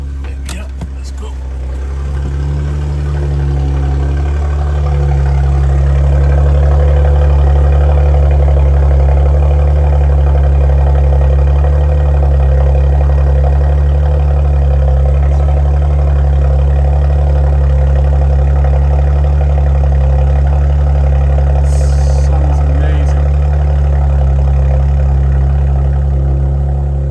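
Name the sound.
Porsche Macan S engine cold start with sport exhaust valves open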